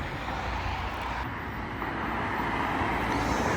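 A car passes by on a road outdoors, a soft broadband whoosh of tyres and engine that swells slightly and stays faint throughout.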